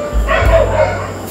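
A dog nearby gives a short, loud bark with a yipping, slightly whiny edge, a quick pair of bursts that then tails off.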